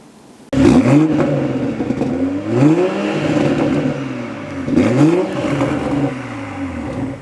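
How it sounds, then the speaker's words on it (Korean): A BMW X4 M40i exhaust fires up and revs three times in swelling bursts, loud and close, with a deep rumble settling between each throttle blip. "간략하게 해당 차량 배기도 보여드리도록 해볼게요."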